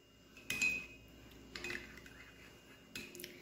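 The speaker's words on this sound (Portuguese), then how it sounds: "Então, eu vou mexer para poder misturar bem." A spoon stirring condensed milk mixture in a bowl, three soft clinking scrapes of metal against the dish spaced about a second apart, quiet and close.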